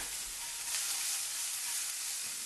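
A generous amount of onion hits an overly hot, slightly smoking pan while making chicken parm, producing a continuous, even hiss of sizzling at close range with no talking.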